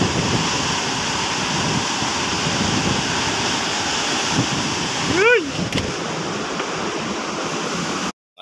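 Strong winds and heavy rain from Typhoon Uwan roar in a steady, dense rush with no break, loud and close, with a brief rising whistle-like tone near the end.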